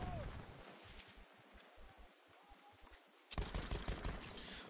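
Gunfire in the Battlefield 1 video game on the Fort de Vaux map, a rapid rattle of shots over wind-like battlefield ambience, growing louder and denser in the last second and a half.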